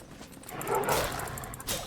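Dogs in the Enshrouded game giving short yips and barks, a brief flurry of clipped calls over faint background noise.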